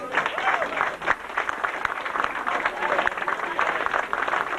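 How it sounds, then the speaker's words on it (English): Audience applause for a bakery competition team coming forward to collect medals at an anniversary celebration, steady dense clapping throughout with a brief dip near the one-second mark. "Round of applause."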